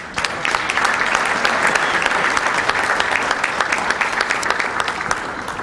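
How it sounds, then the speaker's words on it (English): Audience at a Middlesex County chamber of commerce breakfast applauds the pianist John Lamartra, a steady, dense clapping from a room full of people that holds for several seconds with no talking. "let's have a round of applause for John"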